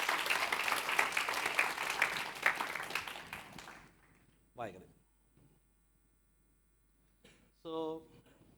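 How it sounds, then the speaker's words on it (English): A conference audience at an iOS developer talk claps in a dense, steady burst of applause that cuts off after a few seconds, followed by quiet and brief bits of voice. "So give them a big round of applause."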